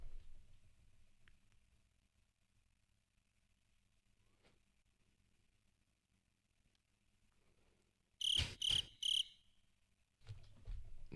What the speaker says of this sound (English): This is where we need the crickets.